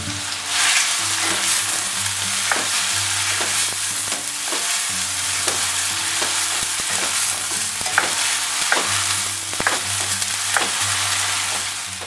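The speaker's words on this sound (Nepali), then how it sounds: "यो प्याजलाई पहिला राम्रोसँगले भुट्न पर्छ।" Chopped onion frying in a pan for a trout curry, a steady loud sizzle with repeated scraping stirs throughout, no talking.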